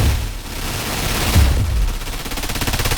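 Gunfire in the sci-fi shooter SILICA, a dense, loud rattle of automatic shots and heavy booms with rapid repeated bursts toward the end, no voices.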